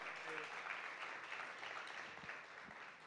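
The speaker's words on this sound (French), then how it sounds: "On applaudit les dames qui vont monter." An audience applauds at a gala honouring women, a steady, moderately distant wash of clapping that continues without a break and has no clear speech over it.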